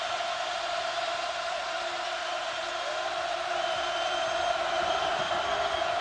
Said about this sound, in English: Now the crowd trying to get back into it.